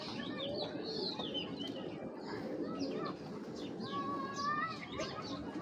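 Fancy pigeons, including a restless mackie pair, coo softly in a mixed flock with scattered higher chirps, faint and close, without speech.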